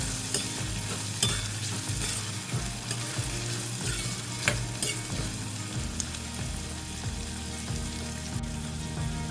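Onion sautéing in oil, a continuous close sizzle with repeated rhythmic scraping and stirring knocks of a utensil against the pan.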